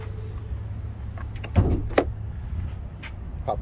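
Electric motor hum of power windows on a 2023 FCP Superquake supercharged Ford F150, a low steady whir with a couple of short thumps and clicks, quiet and close.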